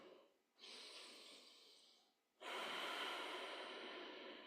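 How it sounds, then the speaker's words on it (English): Slow, deep breaths during a restorative yoga practice, two long airy exhalations close to the microphone, separated by a brief quiet pause, with no talking. "we're going to take 3 rounds of deep breath here."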